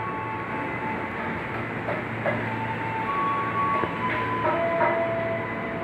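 Commuter KRL train of about twelve cars at Depok Baru station, a steady rumbling rolling roar with faint brake squeals and rail clicks, continuous and moderately close.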